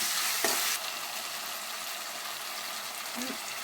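A frying mixture stirred in a pan, with a steady hiss of sizzling broken by a couple of scraping stir strokes, close and moderately loud, with no voices.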